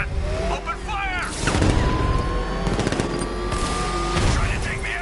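Automatic gunfire and explosive booms from Batman Arkham Knight game combat, in rapid bursts mixed with engine noise and loud voices, dense and continuous throughout.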